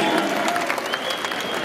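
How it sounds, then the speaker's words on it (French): Warm audience applause at an anniversary evening event, a steady dense wash of clapping with some crowd noise and a faint voice underneath, holding level throughout. "Il y aura ensuite des applaudissements chaleureux."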